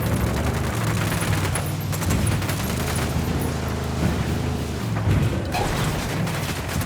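Gunfire in Ghost Recon Wildlands, dense overlapping bursts and booming shots pounding continuously at close range, with heavy low rumble underneath and sharp cracks breaking through.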